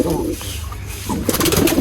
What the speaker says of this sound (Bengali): এটা হচ্ছে দেশি কবুতরের ফিমেলটা